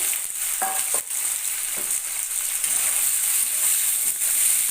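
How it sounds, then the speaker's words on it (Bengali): Soybean chunks fry over a medium gas flame in hot oil, producing a steady, loud hiss throughout with a few faint scrapes and knocks. "গ্যাসের ফ্লেমটাকে মিডিয়ামে রেখে সয়াবিনগুলো ভাজতে হবে"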